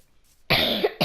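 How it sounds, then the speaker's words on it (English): Someone coughs hard in a short burst, loud and close, breaking out of near silence with a second brief cough at the end. "don't mind my, coughing"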